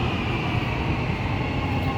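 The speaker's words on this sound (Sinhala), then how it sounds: "ඔන්න අපි යන්න මෙට්‍රෝ එක ආවා" A Riyadh Metro train arriving at a station, a loud, steady rumble and roar of the rail car close by, continuous and without talk.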